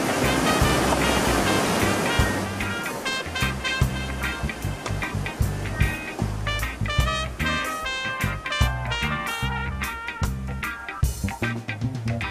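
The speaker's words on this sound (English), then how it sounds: "Here comes our first raft into their first Class 5 rapid." Whitewater rapids roar at Pillow Rock, a Class 5 rapid on the Gauley River where the current drives against a huge boulder, a loud dense rush with rhythmic surging beneath, continuous and close.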